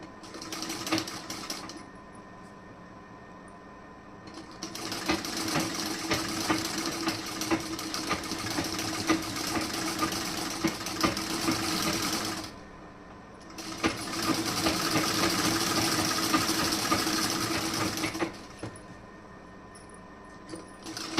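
A sewing machine stitches a blouse in two long, steady bursts of rapid mechanical whirring, separated by brief pauses, close and moderately loud with no talk.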